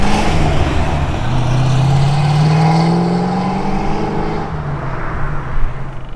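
A car passes close by, its engine note rising then falling away in a smooth sweep, loud and alone.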